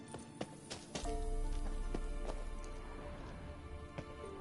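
Hooves of Kelpie, Geralt's horse in The Witcher III, clatter in a quick galloping rhythm, loud and close, with a steady low rumble of movement and a few sharper knocks early on.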